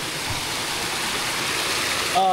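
Pinaisara Falls, the tallest waterfall in Okinawa, roars as a steady, dense rush of falling water heard close up, with a brief voice at the very end.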